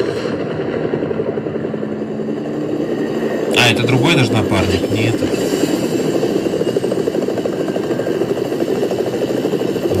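A helicopter in a video game gives a steady rhythmic rotor thrum and engine drone throughout, with someone talking over it and a brief clatter in the middle.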